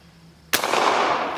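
A single sharp, loud report from an 1860 Henry lever-action rifle firing .45 Long Colt cracks out after a quiet moment. The shot rings on with a broad, sustained echo.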